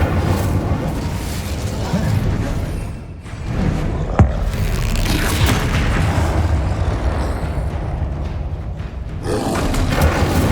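Confringo blasting spell from Hogwarts Legacy gameplay: a continuous rumbling, roaring burst of fiery explosions with booming low end, dense and loud throughout, briefly dipping once before surging again.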